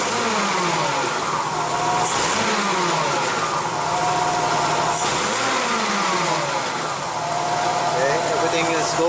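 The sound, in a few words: six-cylinder car engine revving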